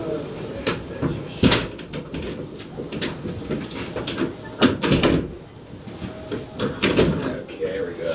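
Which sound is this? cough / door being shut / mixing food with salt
door being shut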